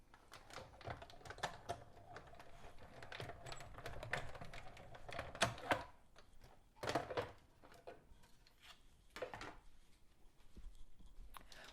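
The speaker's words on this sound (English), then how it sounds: "I'm going to take the coordinating die and run that through my machine like this, just to cut that image out." Die-cutting machine cutting a stamped image out with a coordinating die, heard as a run of close, rapid clicking and clattering with louder bursts and brief pauses, no talk over it.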